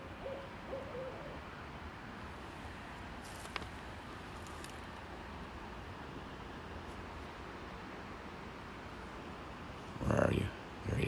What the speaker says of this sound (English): That's our barred owl.